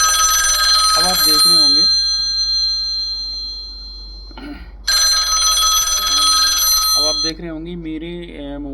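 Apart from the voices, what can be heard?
mobile phone ringing with a random duty alert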